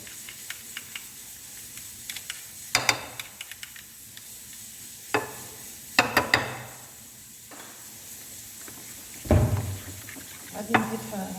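Chicken mini quiche filling being stirred in a pan, with a soft sizzle under scattered scraping and knocking of a spoon against the cookware, a few louder clatters.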